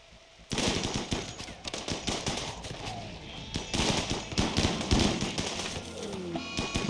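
Gunfire cracks out in RimWorld as colonists fight off an attack by shamblers, with irregular rapid bursts of sharp shots, some clustered and some spaced apart, at a moderate level throughout.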